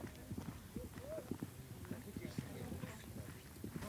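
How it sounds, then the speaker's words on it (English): Horses gallop in the Mongol Derby race, passing through a goat herd, with clip-clop hoofbeats in a fast rhythm under steady talk and background noise. "Galloping in, going through the goat herd"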